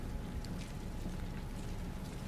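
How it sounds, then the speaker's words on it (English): Steady, continuous rush of flowing water in a Resident Evil 2 game scene, a dense even wash that holds at a constant level throughout without breaks. "You have to change the flow of the water to get it to go where you want."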